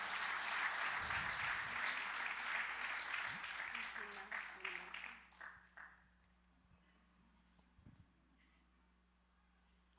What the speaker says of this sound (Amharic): እስቲ ባርኩት፣ አጨብጭቡና በሉ